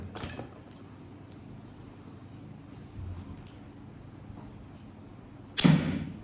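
A sharp, loud snap and whoosh of an 80-pound Cobra pistol crossbow releasing a bolt near the end, after several seconds of quiet room hiss with faint clicks.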